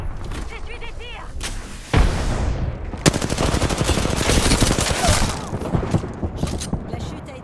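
Rapid gunfire and heavy weapon bursts from the online battle royale video game Apex Legends, loud and dense, with sharp blasts at about two and three seconds followed by continuous crackling shots.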